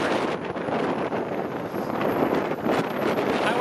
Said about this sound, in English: I hope you can actually hear me over this friggin' wind.